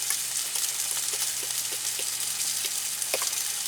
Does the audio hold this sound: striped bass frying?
yes